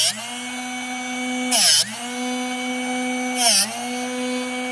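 A Drill Doctor 750X drill bit sharpener runs with a steady motorized hum and two short, harsh grinding bursts about two seconds apart, each briefly pulling the motor's pitch down.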